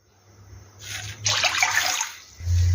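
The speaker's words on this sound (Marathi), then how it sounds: "2 वाटी पाणी टाकून घेऊया।" Water is poured into a pan for schezwan chakli dough, a close, steady rush of liquid that builds for about a second and a half and then stops.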